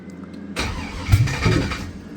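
A 1985 Cutlass Supreme with an LS swap engine cranks without catching: a starter whirs in a short, uneven burst after a quiet moment, heard close with no speech.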